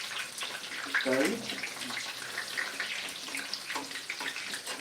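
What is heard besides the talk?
spiced fish frying in hot oil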